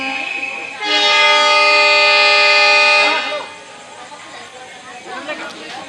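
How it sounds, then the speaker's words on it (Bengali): A train horn blares loud and steady for about two seconds at Hamiltonganj station at night, its stacked tones ringing out before fading into rumbling carriage noise, with a voice speaking over it. "ট্রেন এখন"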